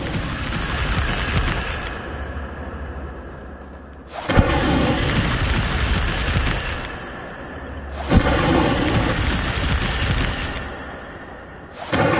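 The Incendio fire spell is cast repeatedly in Hogwarts Legacy: three loud, roaring whooshes of flame burst out about four seconds apart, each fading before the next.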